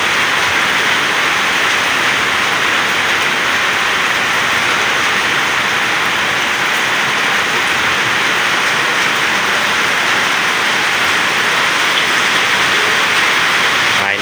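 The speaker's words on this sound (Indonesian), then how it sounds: "Ini hujan ya sekitar 5 menit teman-teman." Heavy rain pours steadily and densely, a close, even hiss that stays constant with no voices.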